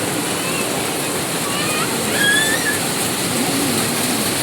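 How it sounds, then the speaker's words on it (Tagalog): A heavy downpour roars steadily outside a shelter with an old, leaking roof, a dense unbroken hiss with no let-up and a few faint tones buried in it. "bumuhos ang malakas na ulan"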